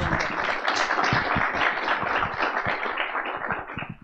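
Audience at a student anti-corruption congress applauding to welcome a speaker, a dense, even round of clapping from many hands that holds steady and begins to thin out at the end.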